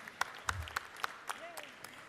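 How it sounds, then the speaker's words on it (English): A few scattered claps in the Georgia House chamber, sharp isolated hand claps at a steady spacing rather than a full ovation, fairly quiet and distant with a faint murmur beneath. "So if you could stand up and give them a round of applause"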